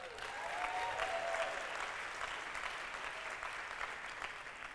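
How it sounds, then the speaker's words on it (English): Keynote audience applause fills a conference hall, a steady wash of many hands clapping at moderate distance for several seconds, with a faint voice briefly audible near the start. "That is what we in the speaking business call getting cheap applause"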